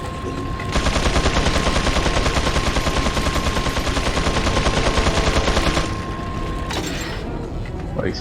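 Automatic gunfire from Resident Evil 4 roars for about five seconds as a loud, dense, rapid-fire stream with a steady tone beneath it, then cuts off and fades into quieter game sounds.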